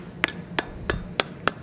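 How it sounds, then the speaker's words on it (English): Wooden mallet striking a forged metal ring at a blacksmith's anvil while shaping a Gothic door knocker: five sharp, evenly spaced ringing blows, close and fairly loud, with no talking. "I'm using a wooden mallet, excuse me, not a rawhide mallet, and we're just going to hammer this right on around."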